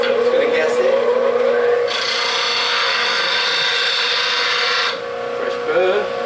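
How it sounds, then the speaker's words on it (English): A turning scraper is sharpened on a coarse grinding wheel to raise a burr, giving a loud, steady rasping grind that holds for several seconds over a humming motor. "so let's put a burr on. Use a coarser wheel"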